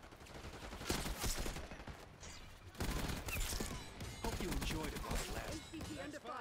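Video game combat gunfire rattles in dense, repeated volleys with thuds and clatter, fairly close and continuous, mixed with faint background effects.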